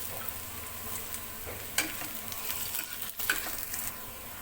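Garlic frying in a pan for paneer bhurji, a steady sizzle with a few stirring clatters and a sharper scrape near the middle, close and moderately loud, no voices.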